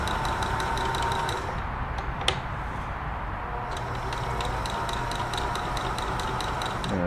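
A Necchi 525FA sewing machine runs steadily through its stitches, a close, even mechanical whir with rapid regular ticking and a sharp clack partway through, with no talking.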